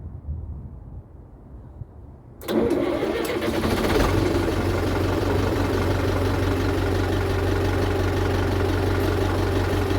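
A Renault 69 diesel engine cranks and fires after a couple of seconds of near silence, then settles into a loud, steady, rumbling idle that holds to the end.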